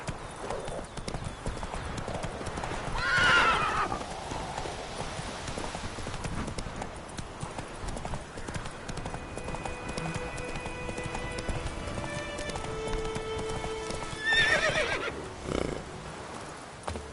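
Roach the horse in The Witcher 3 clip-clopping at a steady hoof rhythm, with two loud whinnying neighs, one early and one near the end, over a constant outdoor game ambience with music.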